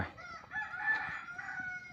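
A junglefowl rooster crows once in a long, strained, raspy call, fairly close, over faint background rustle and clucking.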